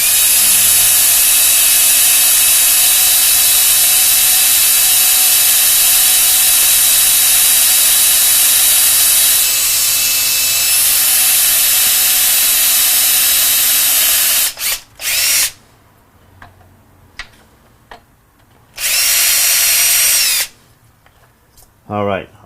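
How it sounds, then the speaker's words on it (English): A power drill whines loudly and continuously for a long stretch as it bores through a piece of aluminum, then stops, followed by two short bursts and near silence between. "So we take a piece of aluminum that we already had planned on putting in here"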